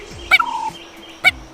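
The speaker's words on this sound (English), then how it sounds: "Instead, Joe mastered the language of turkeys himself." Two loud, rapid turkey gobbles, spaced about a second apart, ring out close by with quiet between them.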